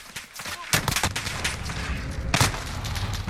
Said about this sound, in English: with it being semi-auto, you can fire that thing really fast if you need to